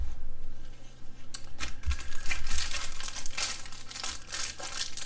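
Plastic packaging around resistance loops crinkles and crackles close up, in continuous irregular bursts of handling with no talking.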